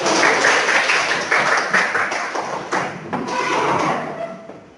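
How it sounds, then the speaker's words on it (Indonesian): A classroom of students applauding together, a steady wash of clapping from many hands at close range with scattered louder claps throughout, continuing for several seconds before tapering off. "beri aplaus untuk kalian"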